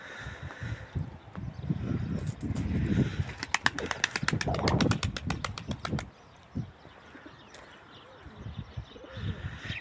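Pigeons coo in a flying loft with low, rolling calls, while a burst of rapid sharp clicks or taps sounds midway and quieter background noise follows.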